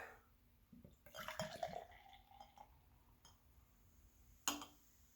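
A twist-off Mississippi Mud Black and Tan beer is poured into a glass, building a foamy head; liquid splashes and fizzes in a short burst, then trails off, with a sharp clink near the end.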